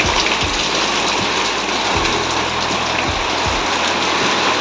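Steady rain falls and splashes onto surfaces close by, a constant dense hiss with occasional heavier drips and thuds, and no voices are heard.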